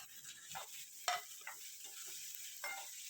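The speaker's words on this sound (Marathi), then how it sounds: "आता कांदा थोडासा लाल झाला की आपण त्यात टॅमॅटो कैरी हे टाकून घेऊया" Chopped onion with tomato and raw green mango sizzling in hot oil for a Konkani dried-shrimp (jawla) fry, stirred with a spoon that clinks against the pan, steady crackle close by with no talking.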